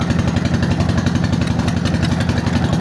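A motor boat engine chugs on the Buriganga river, a loud, close, rapid rhythmic thudding that stays steady and unbroken with no voices over it.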